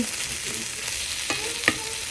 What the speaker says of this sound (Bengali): কচুর ফুলটা প্রায় ভাজা ভাজা হয়ে গেছে আর একটুখানি ভাজা করে নেব